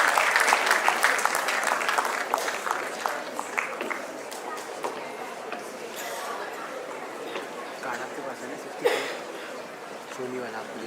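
Applause at an army education society awards ceremony rises strongly at first, then thins into scattered clapping mixed with crowd chatter and light laughter.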